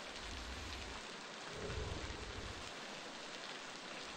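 A windy rainstorm in the Beasts of Bermuda game gives a steady dense hiss of rain, with low gusts of wind that swell and fade beneath it and no voices.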